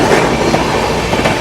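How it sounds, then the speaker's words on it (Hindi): Delhi Patna AC special train running on the rails, a loud continuous rumble and rattle of wheels and carriages, close and steady throughout with no voices. "अभी अपनी ट्रेन फिर से निकल गई है"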